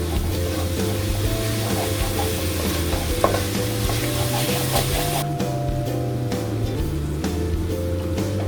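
Mutton biryani masala with ground mace and a little yogurt being stirred in a pot, a steady scraping and gentle sizzle running continuously throughout with no talking.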